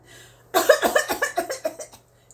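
A person coughs in a rapid series of harsh, chesty bursts, close and loud, after a brief quiet moment.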